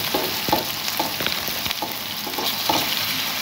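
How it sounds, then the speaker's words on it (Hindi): Ginger-garlic paste fries in a pan for a chickpea-lentil daal, a constant crackling sizzle with repeated light knocks and scrapes of stirring, close and without talk. "अब हम इसमें डालेंगे अदरक और लहसुन का पेस्ट और इसे अच्छी तरह से मिक्स करेंगे"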